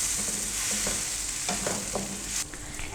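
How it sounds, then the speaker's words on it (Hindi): Chopped tomatoes and onions frying in a pan, a steady bright sizzle close up, with several spatula stirs scraping through the mixture at an even rhythm. "टमाटर को भी हमने इसमें अच्छे से नरम कर लेना है।"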